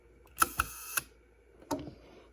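A Zeiss Ikon Contessa folding camera's shutter is set to half a second and fired on its self-timer, giving a cluster of sharp mechanical clicks and a faint buzzing whir, then another clack moments later, close and isolated.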